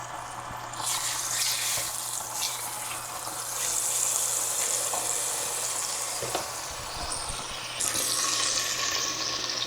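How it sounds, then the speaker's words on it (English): Steady hissing, bubbling water sound filling the whole stretch, with a few soft clinks and shifts in intensity, close by and fairly loud. "I'm boiling some hot water right here."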